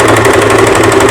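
Sewing machine stitching a blouse, a loud close rapid mechanical chatter with an even rhythm throughout.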